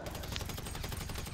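Dense, continuous automatic gunfire from the video game GTA 5 rattles loudly and without pause across the whole short stretch, with no talking over it.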